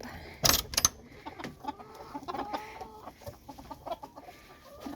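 Silkie chickens cluck in short, irregular bursts close by, with a sharp flurry of wing flaps or scuffling near the start.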